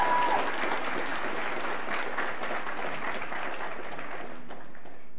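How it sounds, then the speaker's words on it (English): Steady, continuous clapping from a concert audience, filling the whole stretch at an even loudness. "How did you know that I liked hand claps?"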